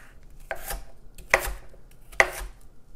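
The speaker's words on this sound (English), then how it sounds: "The first thing we're going to do is peel and chop about 1 cup of sweet potato." Knife chopping sweet potato on a cutting board, three sharp, close thunks spaced roughly a second apart over quiet room tone, no talk.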